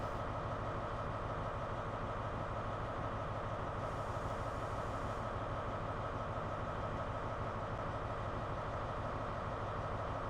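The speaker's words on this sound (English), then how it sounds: "Let's just roll the train forward a little bit." An HST Castle Class set in Train Sim World 5 rolls slowly forward, a steady, dense engine drone and rail rumble that holds at even loudness throughout, with a brief brighter hiss partway through and no voices.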